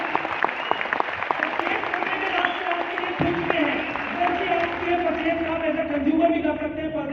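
A crowd of distributors at a product marketing event applauds steadily with many overlapping claps, while a voice speaks over the clapping in the second half.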